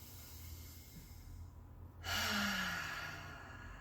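Deep breath drawn in and let out during a guided energy-centre breathing workout, a soft faint exhale building into a stronger, louder breathy rush about halfway through, heard alone without talk.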